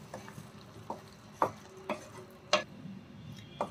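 A spoon stirs prawn tomato curry in a pan, giving a string of light, evenly spaced clicks and taps against the metal, close and quiet with a soft sizzle beneath.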